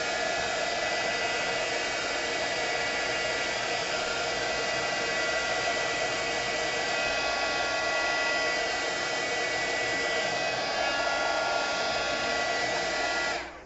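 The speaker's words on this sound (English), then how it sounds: "I'm going to give it a quick blast with a little bit of heat." A heat tool blasts hot air onto glued paper, a loud steady roaring rush held close for several seconds before cutting off abruptly at the end.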